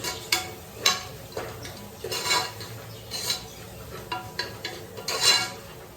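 A spoon scrapes and knocks against a pan as coriander powder is stirred into beetroot rice, giving soft, irregular clinks and scrapes at a moderate, unhurried pace, faint and close.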